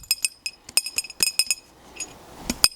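A beer bottle glass arrowhead being pressure flaked with a nail or screw, giving a run of sharp glassy clinks and ticks in quick irregular succession, close and alone.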